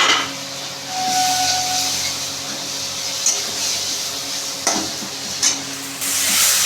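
Turmeric and ground spice paste hit hot oil in a pan for pumpkin chokka, giving a steady close sizzle and hiss with occasional scraping stirs.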